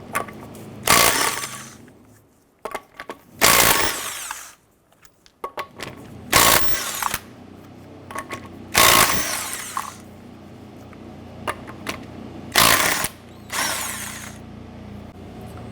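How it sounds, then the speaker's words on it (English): An impact wrench with a 19mm socket rattles off lug nuts on a 2006-2013 Chevrolet Impala wheel in loud, harsh bursts, five separate runs with short pauses between them. "let's remove the lug nuts."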